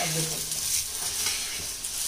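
Curry leaves sizzle and crackle in hot oil, a steady frying hiss up close with light stirring.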